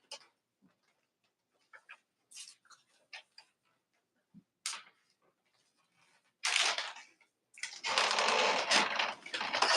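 A sewing machine stitches down quilt pieces in short, separate bursts of rapid clicking, followed by louder sustained whirring runs near the end, close by and with no talk.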